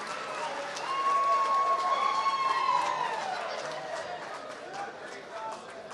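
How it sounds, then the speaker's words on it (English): Crowd at an awards night applauding and cheering themselves, a steady wash of clapping with whistles and shouts rising and easing over several seconds, fairly loud with some voices in the mix. "so give yourselves a round of applause."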